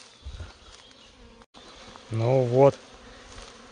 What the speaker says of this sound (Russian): практически все пчелки в районе